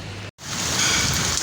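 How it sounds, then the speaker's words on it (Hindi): Heavy rain falls as a dense, steady hiss, close and continuous apart from a brief dropout near the start. "दोबारा बारिश जो है वो शुरू हो गई है, बहुत ही तेज़ बारिश हो रही है"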